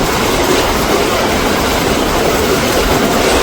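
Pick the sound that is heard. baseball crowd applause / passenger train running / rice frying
passenger train running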